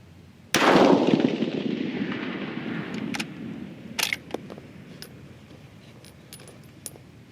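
A single close, sharp rifle shot fired during charge weight load testing cracks loudly and decays over a couple of seconds. A few faint clicks and clinks follow afterward, with no talk.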